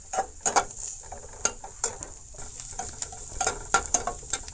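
Turmeric and chili powder fry in a pan for a jute leaf curry, giving a soft sizzle with irregular scraping and stirring clicks, close and fairly quiet, with no talking.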